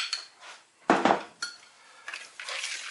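Milk and flour stirred in a small bowl for potato pancake batter, a few clinking and scraping strokes of a spoon against the dish, close and fairly quiet with short pauses between strokes.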